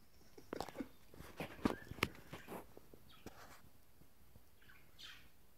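Pet budgies chirping indoors in a house, several short sharp tweets and chirps scattered across a few seconds, fairly faint and close, with light tapping sounds between them.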